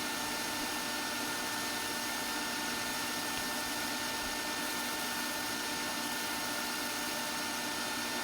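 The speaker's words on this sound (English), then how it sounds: "finish sander that I've rigged up" A rigged-up finish sander buzzes in a steady, loud, unbroken drone while sanding a turned wooden tart shell former, with no voices.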